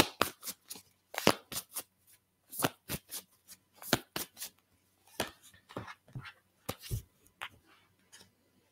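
Tarot cards are shuffled by hand in a series of crisp, close riffles and slaps, irregular bursts separated by short pauses, with no voices.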